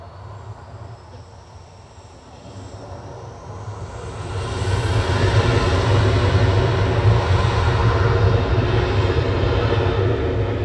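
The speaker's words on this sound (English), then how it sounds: "Ready and waiting for the A380." Airbus A380 airliner at Manchester Airport, a low engine roar that swells from a moderate rumble to a loud, sustained thunder about halfway through and holds steady.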